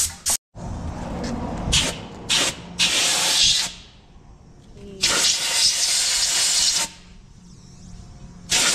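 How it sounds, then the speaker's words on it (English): An air hose blows compressed air over farm equipment being serviced, giving loud hissing bursts that start and stop: several short blasts, then a longer blast of roughly two seconds, close to the microphone with quiet gaps between. "Next, we're gonna need the air hose."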